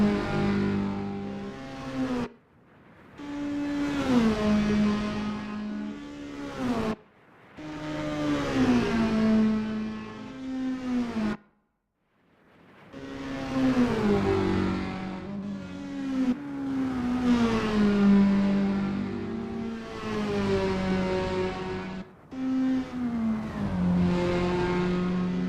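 Toyota S-FR race cars lapping Lime Rock in Assetto Corsa, engines revving hard and climbing through the gears in repeated sweeps, each rising pitch cut by a shift, loud and close with a short lull midway.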